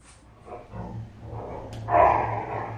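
Dogs play indoors in an apartment with short, fairly quiet barks, yips and growls. The sounds swell into a louder outburst near the end.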